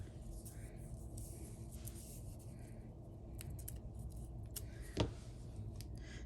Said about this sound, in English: I think I'm gonna give it a nice little trim.